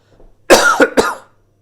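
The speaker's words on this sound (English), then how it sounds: "You just have to forgive my cough, unfortunately." A single close, harsh cough burst breaking into two or three rapid hacks, then silence.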